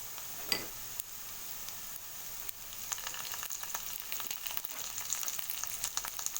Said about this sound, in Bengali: এখন আমরা দিয়ে দেব আদা রসুন বাটা।